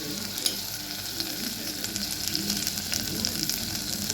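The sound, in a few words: frying chicken curry in oil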